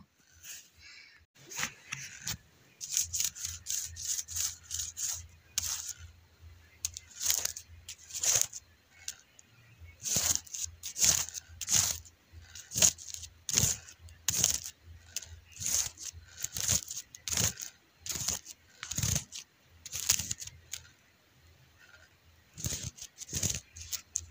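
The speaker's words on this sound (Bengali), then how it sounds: "আবারও আমি ভালো মতো সব শাকগুলো কেটে নেব" A knife chops pumpkin leaves and Malabar spinach greens on a board in rapid, crisp strokes, with irregular bursts and short pauses, close and clear with a faint low hum underneath.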